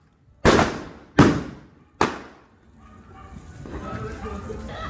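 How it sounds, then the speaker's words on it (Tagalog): Three loud 3-star firecrackers bang one after another, each a sharp close blast with a ringing decay, followed by a rising hiss of outdoor noise and crackling as the smoke clears. "Lakas na sumunog ng paputok tong anak ng kontraktor natin."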